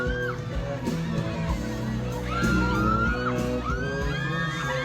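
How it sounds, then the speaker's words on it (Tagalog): A crowd of fans screams, shouts and whoops continuously, loud and dense with overlapping voices and occasional bangs, a roaring cheer that swells and stays high throughout. "grabe sigaw na sigaw talaga sila"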